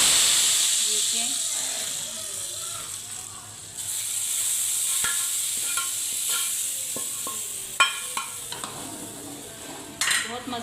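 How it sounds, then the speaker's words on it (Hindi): Hot tempering oil with green chilies sizzles and hisses loudly as it is poured into cooked daal, a steady frying crackle with sharp spattering pops and some stirring clatter. "बहुत मज़े का तड़का ये होता है"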